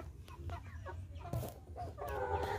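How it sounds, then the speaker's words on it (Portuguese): Hens clucking in a farm henhouse, several soft close clucks and short calls scattered over a low background hum. "Esse aqui é o nosso outro galinheiro. Essas galinhas estão... Tudo gordinhas, né?"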